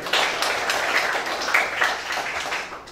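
A school audience at SMAN 30 Jakarta Pusat breaks into a burst of applause, dense clapping that holds loud for about three seconds and then begins to thin toward the end.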